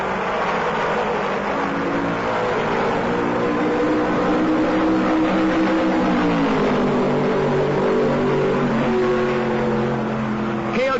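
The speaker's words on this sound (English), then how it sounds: "Cale Yarborough nails his foot to the floor and keeps the lead" NASCAR stock cars with Ford engines roar and accelerate at the 1968 Southern 500 race, engine pitch rising and shifting continuously, loud and sustained, with speech mixed in.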